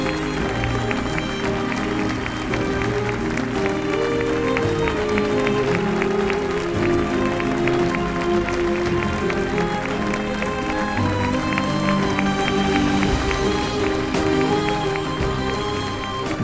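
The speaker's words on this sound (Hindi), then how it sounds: "लोग खड़े होकर तालियां बजा रहे हैं।" A standing audience claps continuously throughout, a dense, steady wash of applause layered with music, with no pause from start to finish.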